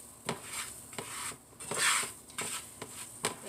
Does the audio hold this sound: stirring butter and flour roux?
yes